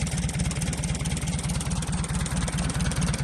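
A 1946 Farmall A tractor engine idles steadily with an even, rapid low-pitched chugging pulse, close and continuous without any talking.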